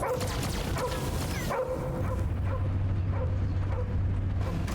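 A dog barks and yips repeatedly in the Marvel's Guardians of the Galaxy video game, close and loud amid busy game sound effects, with a steady low hum underneath.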